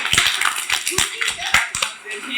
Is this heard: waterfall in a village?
no